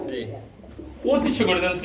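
Lahori pigeons for sale at a market coo in close rolling bursts, overlapping with people talking nearby.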